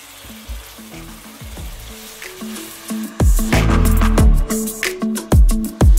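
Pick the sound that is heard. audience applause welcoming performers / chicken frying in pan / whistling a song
chicken frying in pan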